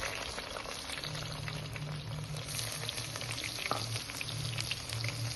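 Shallots tossed into hot oil with mustard seeds and fenugreek fry with a steady, dense sizzle and a low bubbling undertone, close and continuous with no voices.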